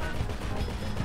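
Sustained gunfire during a Diamond Casino heist mission in GTA Online, loud overlapping shots forming a steady wall of noise.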